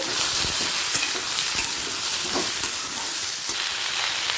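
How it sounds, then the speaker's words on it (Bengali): Potato and pointed gourd fry together in oil over a high flame, giving a loud, steady, crackling sizzle throughout, with stirring scrapes and no voices. "পটলটাও আলুর সাথে আরও এক মিনিট ভেজে নেব খাই ফ্লেমে"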